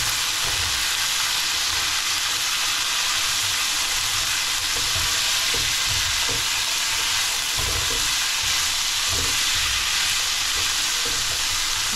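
Vegetables for ginisang are sautéing in a hot pan. A steady, loud hiss of frying runs throughout, with soft stirring knocks underneath and no voices.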